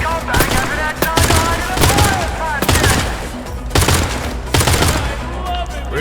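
Rapid, loud bursts of gunfire in a Pioner firefight, with sharp repeated shots in clusters and a few heavier cracks spread through a continuous battle din.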